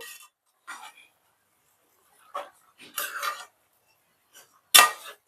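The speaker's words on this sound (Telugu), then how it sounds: "పసుపు వేసాను కదా బాగా కలపాలి" Beef curry with turmeric is stirred in a pot with a spoon, giving sparse separate scrapes and clinks against the metal with near silence between them, the last clink the loudest.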